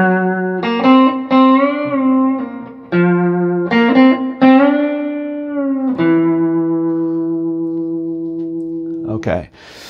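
Electric guitar through effects playing a song part, a series of plucked notes and bends with sustained, slowly fading tones, close and prominent.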